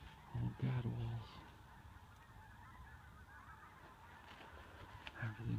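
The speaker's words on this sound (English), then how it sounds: "Everything's iced over. Geese are starting to fly." Geese honk over an iced-over lake during a winter gadwall shoot, two short bursts of loud, close honking separated by a quiet stretch of faint outdoor ambience.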